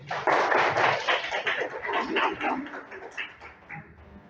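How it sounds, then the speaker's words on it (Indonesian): A classroom of pupils clapping their hands together, a loud, dense burst of many hands that thins out toward the end, with a few faint voices mixed in. "Tepuk tangan"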